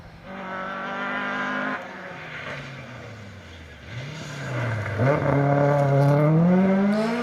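A Ford Escort rally car engine revs hard and changes gear on a Welsh rally stage, rising and falling in pitch at close range, with a loud burst of acceleration near the end.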